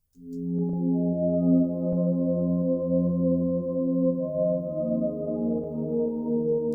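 A soft, sustained synth pad run through effects holds steady chords, smooth and warm, playing alone at moderate volume with a gentle swell at the start.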